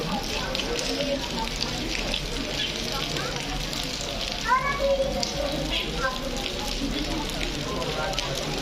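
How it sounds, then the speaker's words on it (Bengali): Dense, crackling hiss of heavy rain pours steadily throughout at a Bangladesh–India border crossing, with faint voices of passengers and a brief tonal sound partway through. "প্রচণ্ড বৃষ্টি"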